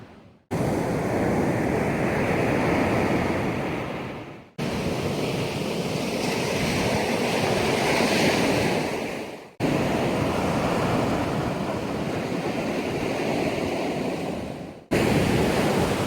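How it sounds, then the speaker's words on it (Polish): Strong seaside wind in Mersin, Turkey roars and buffets steadily against the microphone, mixed with a dull rush of surf, continuous and loud with no voices. "Nie wiem, jak mnie słychać, bo tutaj tak wieje."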